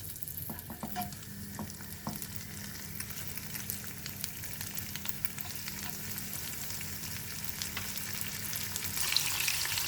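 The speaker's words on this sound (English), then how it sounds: "In our preheated oil, let's fry our marinated fish." Marinated rabbitfish sizzles in preheated hot oil, a steady crackling fry with occasional stirring clatter and utensil clicks, growing a bit louder toward the end, with no voices.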